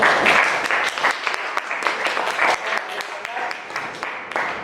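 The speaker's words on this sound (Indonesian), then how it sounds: "tepuk tangan untuk kelompok 1" A classroom audience claps for the first student group after its presentation, a lively burst of many hands with scattered sharper claps, close and loud, mixed with voices talking over it.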